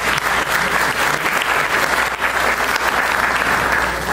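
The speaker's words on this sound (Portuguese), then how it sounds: "Uma salva de palmas." An audience at an academic debate on Hilda and Freud gives a round of applause: full, sustained clapping throughout, fairly loud and even, with no voices over it.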